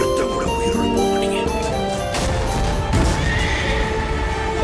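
A horse neighs loudly in a film trailer for a battle epic, a shrill whinny over dramatic music, followed by crashing impacts and hoofbeat-like thuds.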